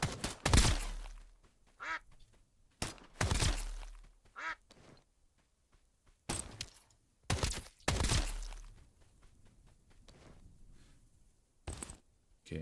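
Ducks in the Escape from Duckov video game quack loudly in several separate bursts, some in quick pairs, with quiet gaps between calls and no talking.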